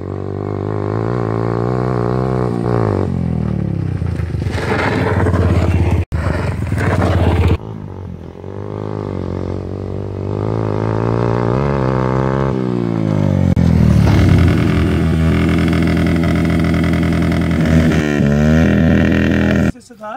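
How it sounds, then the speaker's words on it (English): A Yamaha FZ 150cc motorcycle fitted with a racing-only silencer revs loudly and close by, its exhaust note climbing and falling through several throttle blips over about twenty seconds. "This is Yamaha FC 150cc bike. This has a special silencer, which is for racing use only"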